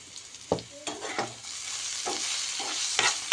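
Vegetables sizzle in a pan with a little turmeric while being fried for an egg curry. A spatula stirs and scrapes in several separate strokes over a steady, soft frying hiss.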